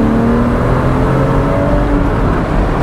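Porsche Boxster engine pulling steadily while driving, a loud, continuous drone with rising harmonic tones as it accelerates, heard alone without talk.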